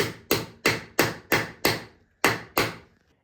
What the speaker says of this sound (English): In the end, the wedges tap home,